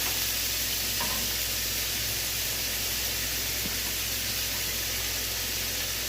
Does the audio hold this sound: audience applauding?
no